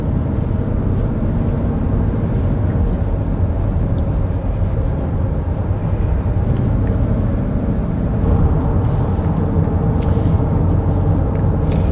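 Ford Maverick Hybrid pickup, base XL trim, heard from inside the cabin while driving: a steady, loud low rumble of engine and road noise that holds constant, with no talk.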